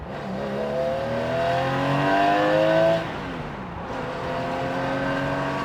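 Gunther Werks 993-based Porsche Speedster engine revving, a loud sustained roar that climbs in pitch over several seconds, drops briefly, then rises and holds again, heard up close with no talking.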